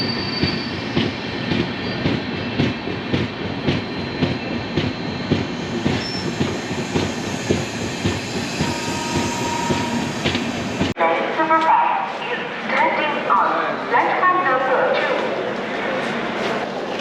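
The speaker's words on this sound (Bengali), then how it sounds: "এখন আমাদের ট্রেন হচ্ছে আসানসোল জংশনে এসে পৌঁছেছে" A passenger train from Kolkata bound for Ayodhya runs on its rails near Asansol Junction, a loud close rumble with rhythmic wheel clatter that drops abruptly to a quieter, more open rolling sound partway through.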